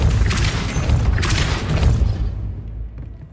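A Depulso spell blast in Hogwarts Legacy, a loud, heavy booming rumble with a couple of surging bursts that cuts off and fades over about three seconds.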